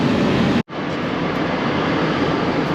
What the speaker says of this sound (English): when he said train, he meant a real train